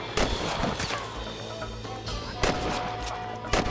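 Gunfire in Red Dead Redemption: loud, close shots crack out irregularly over a dense battle din, with several sharp reports spaced a second or so apart and no talk.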